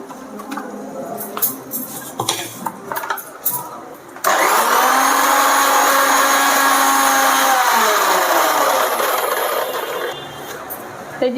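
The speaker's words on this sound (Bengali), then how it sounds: "ঝটপট এখন আগে মিক্সিতে পিষে নেবো" A kitchen mixer grinder grinds mustard seeds with a little yogurt and no water, a loud steady whirring motor starting abruptly after some handling clatter, then slowing slightly near the end.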